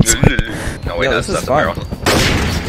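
Gunfire in Garry's Mod sounds as sharp, loud shots in quick succession, with a voice speaking between them and a burst of noise near the end.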